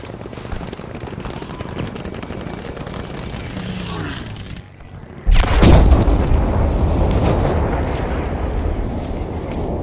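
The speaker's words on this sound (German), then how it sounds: "der Luftschlag kommt" Airstrike explosions in Battlefield V, with rumbling battlefield noise before a sudden loud boom that rolls into a sustained, roaring blast lingering for several seconds.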